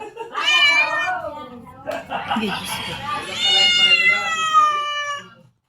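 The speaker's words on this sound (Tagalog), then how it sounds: "Yung pusa." A cat meows loudly and close by in long, drawn-out, wailing calls, several in a row, with a person briefly speaking between them.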